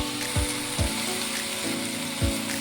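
Drained taro leaves go into a hot pan with a hilsa fish head, giving a loud, close, steady sizzle with a few sharp stirring knocks.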